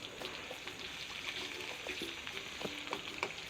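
Chopped onions and bay leaves fry steadily in a pan for a home-style eel fish curry, a continuous soft sizzle with faint crackles and a few light pops, no voices.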